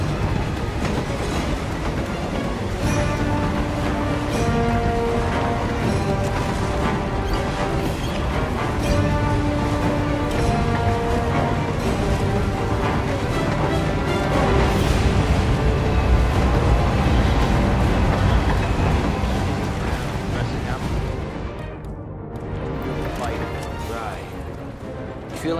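A train rolls along in the video game Hitman 3 with a steady, dense rumble and rhythmic rattling that continues under intermittent speech and gunfire-like clatter before briefly dropping away near the end.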